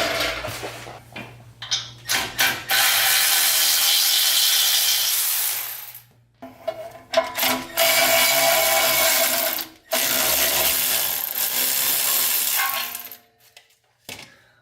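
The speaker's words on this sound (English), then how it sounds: "I'll finish taking out the lower ball joint" Bolts on the lower ball joint of a Toyota 4Runner being removed during a manual hub swap, heard as long steady whirring runs of a tool broken by short clanks and gaps, loud and close.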